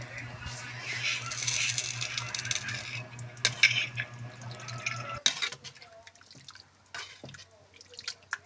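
Water pours into a pot of sautéed squid for a soup with glass noodles, a steady splashing stream for a few seconds followed by bubbling, clinks and drips in a home kitchen.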